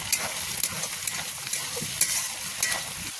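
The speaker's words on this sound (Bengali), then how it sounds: "ভেজে রাখা আলু দিয়ে দেবো, কষে নেবো ভালো করে।" Radish greens stir-fried with fried potatoes and coriander leaves in a pan, giving a soft continuous sizzle with intermittent scraping stir strokes of a spatula, close and moderately quiet.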